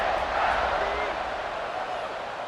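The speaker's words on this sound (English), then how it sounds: "this crowd is feeling themselves after that last drive." Stadium crowd noise in a college football video game with Ole Miss, a broad, steady roar of cheering fans heard alone with no commentary over it.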